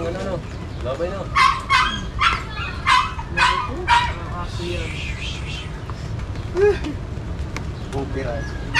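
A dog barks in a run of sharp, fairly close barks spaced about a second apart, then gives a few scattered yips and whimpers while people talk in the background.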